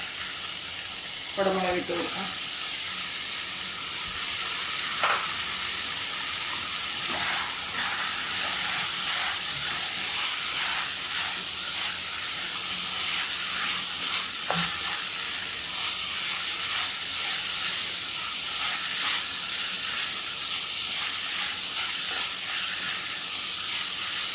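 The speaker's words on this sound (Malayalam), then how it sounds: "ഇനി നമുക്ക് കുടമുളക് ഇട്ട് കൊടുക്കാം" Capsicum sizzles and fries steadily in a hot pan while pulao is being cooked, a continuous close hiss with occasional stirring clicks and faint background sounds throughout.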